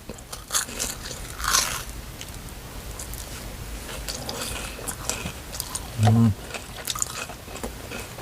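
Fried Korean cheese sausage bitten and chewed close up, with crunchy bites and soft mouth sounds scattered throughout, a murmured voice heard now and then.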